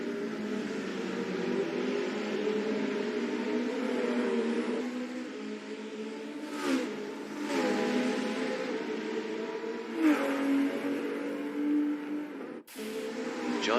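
Virtual race cars, including a McLaren, droning steadily through an online racing game session, with engine tones sweeping up and down and a few brief louder shifts.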